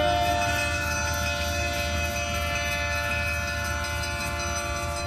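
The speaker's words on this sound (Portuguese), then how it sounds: "este conjunto de sonoridades combinam as notas do som ruidoso do potente motor, combinado com as badaladas de um pequeno sino" An electro-diesel locomotive rumbles through a city centre in Catalão, its powerful engine giving a loud, steady drone with sustained tonal ringing from a small bell, close and continuous without voices.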